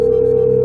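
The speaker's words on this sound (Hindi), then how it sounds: "शुभ्रनील पान को वीडियो कॉल लगाया जाए" A video call ringing tone on a quiz show plays as a steady, loud electronic hum with a faint pulsing pattern, brief and alone.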